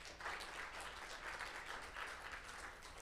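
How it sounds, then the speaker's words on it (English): Faint, steady applause from an audience at an Alzheimer's caregiver self-care event, a soft continuous patter of many hands with no talk over it. "Give them all a round of applause, too."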